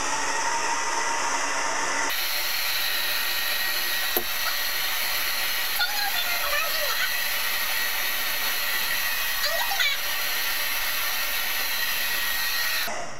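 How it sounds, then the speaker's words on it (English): A hand-held blow dryer runs steadily close by, blowing hot air through hair wrapped around a big round brush, with a continuous whooshing roar and light brushing sounds as it works around the head. "take your blow dryer and start to blow dry"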